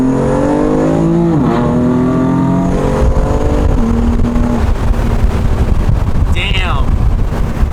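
A BMW M4 accelerates on the road, engine note rising through the gears with shift breaks, heavy wind noise buffeting the microphone from inside the cabin, and a brief voice near the end.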